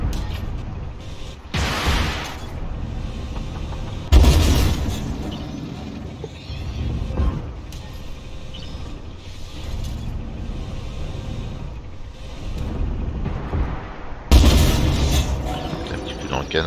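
In the video game Armored Warfare, a Leclerc tank fires its cannon, heavy booms landing at intervals among mechanical clatter and rumble, with a voice talking.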